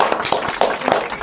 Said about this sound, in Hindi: जोरदार ताली से उनका स्वागत करें।